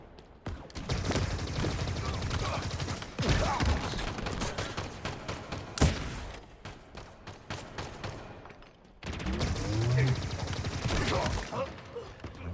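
Long, dense bursts of rapid gunfire crackle in a shooter video game, broken by brief gaps and a single heavy thump; some talk may sit faintly under the shooting.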